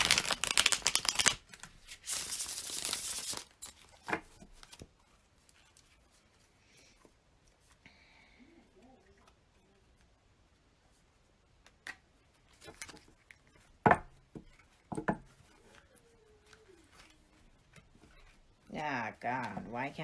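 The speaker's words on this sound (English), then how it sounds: "I can't even pick up the cards and shuffle them" Tarot cards are handled and shuffled in a quiet room, with bursts of riffling and soft rubbing and crinkling scattered through the stretch between faint stretches and occasional speech.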